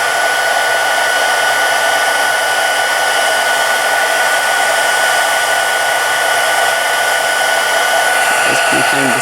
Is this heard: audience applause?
no